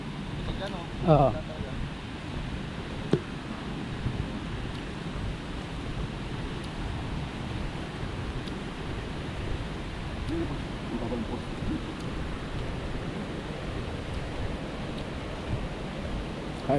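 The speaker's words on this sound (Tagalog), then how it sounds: "naririnig na namin yung lagaslas ng tubig" Continuous rushing water of a waterfall in Diffun, Quirino, Philippines roars in a broad, steady wash, with a brief faint knock near the start.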